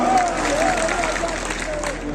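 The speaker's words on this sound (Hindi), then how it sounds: "ताली बजा के बताओ।" A crowd at an outdoor political rally applauds on cue, a steady dense wash of clapping hands holding loud and even for two seconds, with a few voices faintly mixed in.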